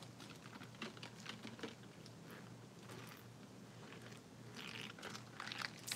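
Typing on a computer keyboard during a live mystery jewelry bag opening, faint irregular clicks and taps scattered over a low background hum, slightly busier toward the end.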